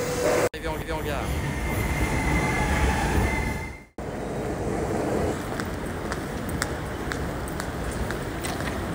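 A Paris metro train arriving at Riquet station, a loud, steady rumble with a brief sharp cut partway through, then continued rolling noise with faint wheel squeals and clicks.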